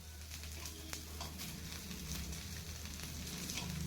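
Sabudana appe frying in ghee in an appe pan, a steady soft sizzle and crackle going on quietly and continuously from close by, with a few small clicks.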